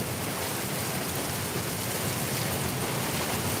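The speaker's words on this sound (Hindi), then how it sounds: "देखिए अब बिजली और तेज गरज रही है" Steady heavy rain hissing down in Darbhanga, a dense, even wash of noise with no distinct thunder crack standing out, and no voices.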